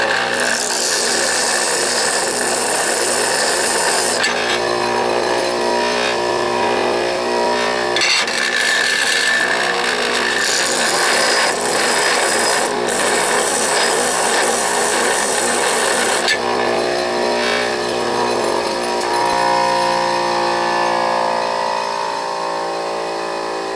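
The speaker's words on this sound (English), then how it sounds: "this represents, in real time, about 10 minutes of grinding" A lathe tool bit held in a South Bend #709 grinding jig is ground against a wheel, giving a loud, continuous raspy grinding that shifts in tone as the bit is repositioned.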